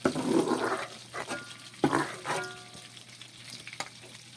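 Carrots fry and caramelize in a pan, giving a steady close sizzle with a couple of louder bursts of stirring or scraping partway through. No one speaks.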